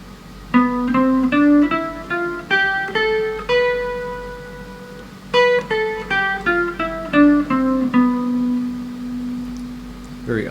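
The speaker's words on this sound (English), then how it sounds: "Locrian mode on the guitar starts on the 7th degree of the scale." A guitar plays a Locrian mode scale starting on the seventh degree, plucking single clear notes one at a time that step up, ring out and then descend, close and alone without any talk.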